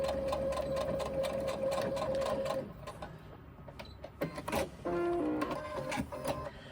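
A sewing machine stitches a seam on a crossbody bag in rapid, rhythmic bursts of needle clatter, pausing briefly midway before running again, close and clear.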